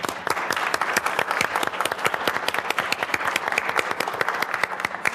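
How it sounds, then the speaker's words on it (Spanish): Lively audience applause at a public conversation event welcoming Lucía, the wife of author Leonardo Padura, with brisk dense clapping sustained at even loudness throughout. "os dan un aplauso"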